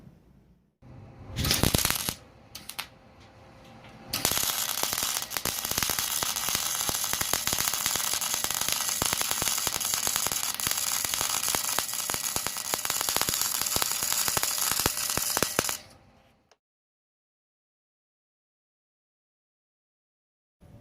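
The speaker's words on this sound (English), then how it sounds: "I'm gonna get this pipe welded on." Exhaust pipe on a Nissan Altima or Maxima being welded: a steady, loud crackling buzz runs about eleven seconds after a few short bursts, then cuts off into silence.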